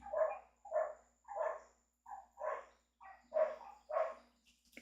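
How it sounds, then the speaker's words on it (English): Dogs barking in the distance, about eight evenly spaced barks over a few seconds, moderately faint against a quiet background. "Dogs are barking like crazy."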